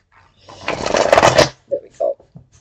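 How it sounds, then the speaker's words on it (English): A tarot deck gets one quick shuffle, a dense rustling burst of card flutter lasting about a second, followed by a few soft taps and brief low sounds close by. "One more shuffle."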